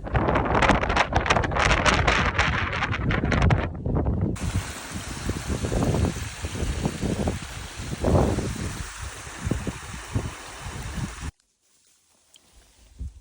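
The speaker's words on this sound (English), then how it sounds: "It's incredibly windy." Strong wind on a mountain top in Lofoten, Norway, buffets the microphone in loud, roaring gusts for most of the clip, then drops abruptly to near silence at the end.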